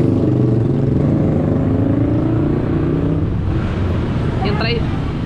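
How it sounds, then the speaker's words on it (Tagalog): A motorized tricycle drives by, its engine and road noise rumbling close, then easing slightly; voices talk over it. "Yung tricycle na yan"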